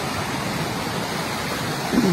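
Khun Korn waterfall in Thailand sends up a steady, even roar of rushing water that stays constant throughout, with a slight swell near the end and no voices.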